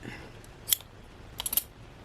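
Scissors snip a tied Rose Beige ribbon on a craft file folder, with one sharp cut followed by a quick cluster of snips, close and quiet with no talk.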